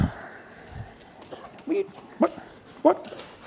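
A pet dog fusses in a workshop during a car wiring job, giving a few short yips and whimpers spaced over a few seconds, close by, with people talking around it.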